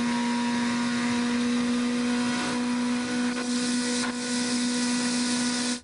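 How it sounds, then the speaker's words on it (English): A small airplane taxiing onto a runway before takeoff gives a steady, loud engine drone with a fixed hum that holds evenly throughout, with no voices. "it's time to taxi onto the runway and take flight into the headwind"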